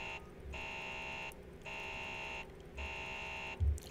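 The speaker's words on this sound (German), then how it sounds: "Wieso geht denn der Alarm nicht mehr weg?" An alarm goes off in the sci-fi horror game Alien: Isolation, a harsh buzzer sounding in repeated bursts about a second long with short silent gaps between them, and no voices.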